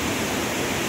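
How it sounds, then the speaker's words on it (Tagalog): Rain-swollen, muddy mountain stream water rushes past as a loud, continuous broadband roar, close and unbroken. "ang tubig papunta doon, galing ng bundok"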